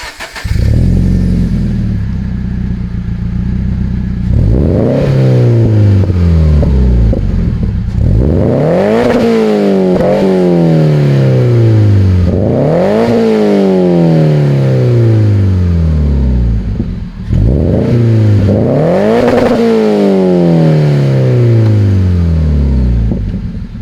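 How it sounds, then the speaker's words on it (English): A car with an aftermarket exhaust revs loudly and repeatedly, each rise climbing sharply then falling back to idle in four or five big sweeps, the deep exhaust note dominating throughout. "you can still hear that exhaust once you get on it"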